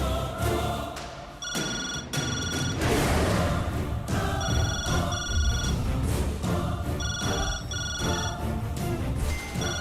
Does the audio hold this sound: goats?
no